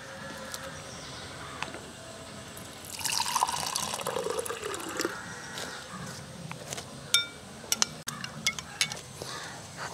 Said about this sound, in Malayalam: നമ്മുടെ ഈ സ്യൂഡോമോണസ് ഒന്ന് നമുക്ക് കുറച്ചെടുത്ത് നമുക്ക് വെള്ളത്തിൽ ലയിപ്പിക്കാം